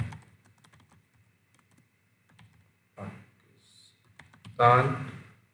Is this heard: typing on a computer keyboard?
yes